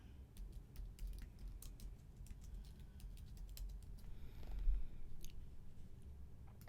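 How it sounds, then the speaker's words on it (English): Soft, quick keyboard keystrokes tap out in uneven runs over a low background hum, close and fairly quiet, with no talking. "where you want the text, and we start typing the name"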